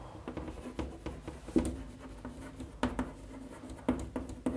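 Chalk or a marker taps and scratches across a classroom board during a biology lecture, giving a steady run of short strokes with a few sharper knocks.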